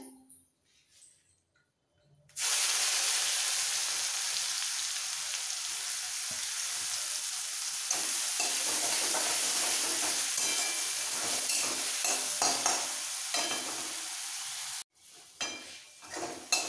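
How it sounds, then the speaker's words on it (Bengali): Finely chopped onion frying in a pan with cloves in the oil, a loud steady sizzle starting after a quiet moment, broken by scraping stirring sounds, then cutting off near the end. "পেঁয়াজ দেওয়ার পরও একটু নরম হওয়া পর্যন্ত ভেজে নিতে হবে।"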